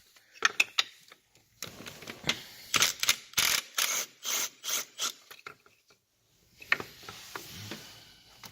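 A hand ratchet works loose the intake manifold bolts on a BMW E46 330xi, giving quick bursts of sharp clicking strokes close up, with short silent gaps between sets.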